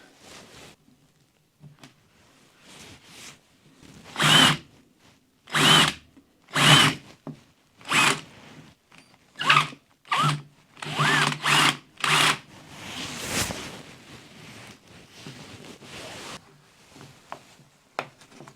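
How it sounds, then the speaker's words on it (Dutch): A power drill with an 8 mm bit whirs in repeated short bursts, starting and stopping as it bores into a cargo bike's box, fairly close and moderately loud. "8 mm boor is het, waarmee ik boor."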